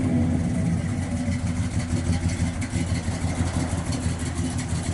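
A 1971 Pontiac Lemans GT-37 engine runs steadily nearby with a deep, rumbling low throb and no pauses, sounding like a continuous idle with slight fluctuations.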